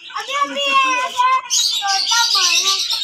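Small baby lorikeet parrot chirping in rapid high, tonal calls that run continuously for about three seconds, close and fairly loud, with a brighter burst partway through and people talking indoors nearby.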